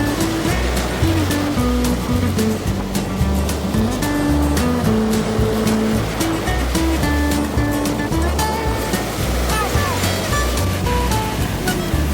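Indian Ocean waves wash steadily onto a shore in Madagascar, a continuous loud rushing surf with a tonal background bed running through it.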